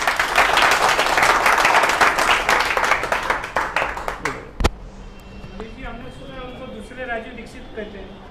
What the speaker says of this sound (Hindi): तो उनकी तालियां कैसी होनी चाहिए?